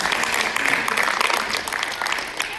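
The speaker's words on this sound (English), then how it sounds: "Let's give Coach Reed a huge round of applause" An audience at a cross country awards banquet applauds for a coach, steady dense clapping that holds loud and even throughout, with a few voices mixed into the applause.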